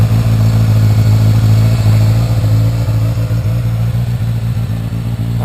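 A 1986 Yamaha FZ600 motorcycle engine runs steadily at close range, a low continuous rumble with slight rev fluctuations throughout.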